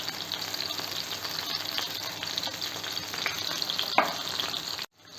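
Tomatoes cooking in a pan over a very low flame give a steady, close sizzle and soft bubbling with faint stirring; a sharper scrape near the end, then it cuts off, without voices.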